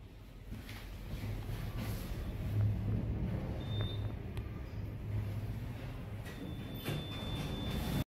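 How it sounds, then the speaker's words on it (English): A Fujitec lift travels at 110 metres per minute, a steady rumbling cabin hum with a faint whine and occasional light clicks throughout. "off to the first lift, which is a set of extremely amazing Fujitec lifts traveling a speed of 110 meters per"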